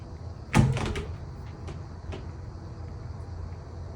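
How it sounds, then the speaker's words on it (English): A cat jumps down off a table indoors with a single soft thump and brief scuffle, followed by a couple of faint light knocks in a quiet room. "That was my cat jumping down off the table."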